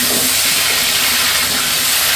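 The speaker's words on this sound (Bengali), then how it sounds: "তো এইভাবে ভাজ ফুলকপিটা ভেজে নেব" Salted cauliflower pieces fry in hot oil with turmeric, producing a loud, dense, continuous sizzle with no break and no talking.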